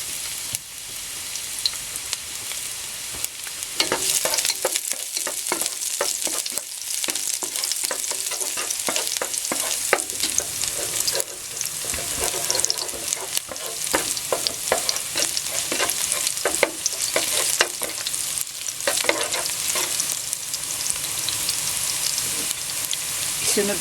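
Garlic sizzles and fries in a hot pan for a Filipino pancit bihon guisado, with a steady broadband crackle and occasional stirring scrapes, loud and close throughout, no talk.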